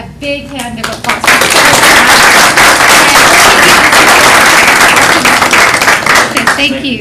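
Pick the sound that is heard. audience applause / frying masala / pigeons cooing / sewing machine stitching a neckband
audience applause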